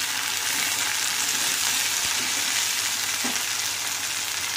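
Tomatoes and green chili sauté in a pan for rawa upma, giving a dense, even sizzle close up with a couple of faint stirring knocks and no speech.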